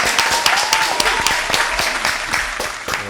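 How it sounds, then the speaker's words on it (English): Audience clapping for a rapper during an interview, a dense, close burst of applause with sharp individual claps running throughout, loud and continuous. "We get a round of applause,"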